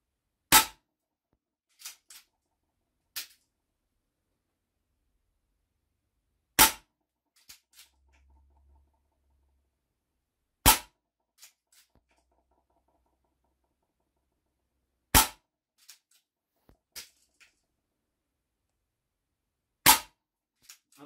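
An Artemis CP2M CO2 4.5 mm multi-shot air pistol firing five sharp, loud pops spaced several seconds apart, each followed by small clicks of cycling and handling in an otherwise silent room.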